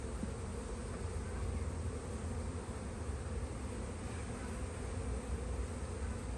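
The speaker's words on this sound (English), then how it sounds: "pushing the bees back in the box" Honeybees in a spring hive box under light smoke give off a dense, continuous buzz that holds steady and fills the clip at close range.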